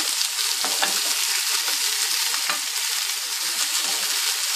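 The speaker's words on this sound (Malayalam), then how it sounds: "തക്കാളി ചേർത്ത് കൊടുത്തുകൊണ്ട് ഇളച്ചിക്കൊണ്ടിരിക്കുക" Tomatoes with green chili, ginger and garlic frying and being stirred in a pan for a prawn roast, a steady close sizzle with occasional scraping stir sounds throughout, no talking.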